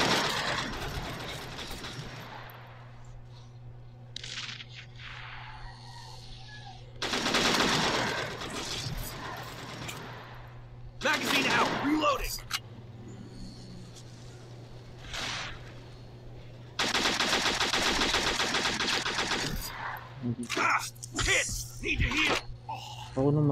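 Machine gun fire in the World War II first-person shooter game World War Heroes, with long loud rattling bursts and clicking reload mechanics in between, over a steady low game hum, close and intense.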